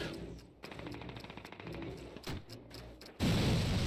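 In Call of Duty (2003), a loud burst of planted-bomb explosions erupts near the end, following a stretch of rapid, rattling gunfire-like pops with music underneath.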